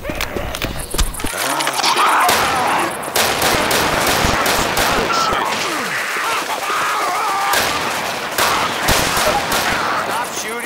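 Rapid gunfire in Left 4 Dead 2, bursts of automatic shots and sharp single cracks layered in a chaotic firefight, loud and close throughout, with occasional player voices mixed in.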